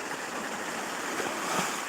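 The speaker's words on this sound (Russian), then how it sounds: "И вот волны так вот накатывают." Sea waves rolling onto a rocky, stone-lined shore in Crimea, a continuous broad wash of surf with a slight swell near the end, loud and close, with no voices.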